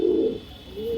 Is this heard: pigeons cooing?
yes